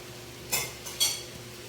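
Food is stirred in a cooking pot as meat simmers in vinegar, with a couple of sharp metal utensil scrapes against the pan over a quiet background sizzle, and no talk.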